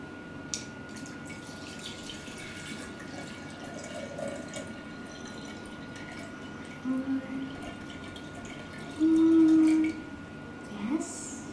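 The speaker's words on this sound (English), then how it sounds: "So first, we need to pour water carefully." Water poured slowly and carefully into a clear container for a homemade lava lamp experiment, a soft steady trickle at low level with a few brief splashes and clinks.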